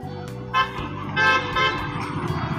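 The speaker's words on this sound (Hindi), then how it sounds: "ऐसा हॉर्न तो हुंडई का ही है।" A Hyundai car horn honks in several short toots over steady road traffic noise, fairly close and loud.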